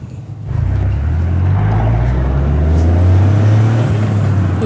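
Turbocharged engine of a 2023 Toyota GR Corolla revving up under acceleration, a loud, close, rising drone that builds steadily from interior for a few seconds.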